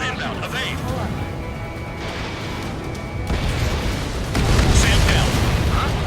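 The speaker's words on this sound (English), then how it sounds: "What was that explosion?" Rumbling explosions in the Ace Combat 7 flight game during a pipeline-destruction mission build to a heavier boom toward the end, under radio voices and steady jet noise.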